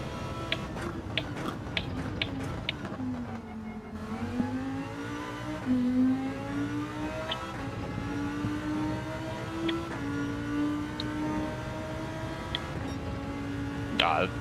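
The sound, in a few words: race car engine noise in the video game Gran Turismo 7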